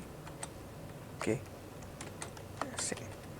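Someone types on a computer keyboard while entering text in a Word document, with a few sparse close key clicks and short bursts of taps over a quiet room hum, and a voice speaks softly at moments.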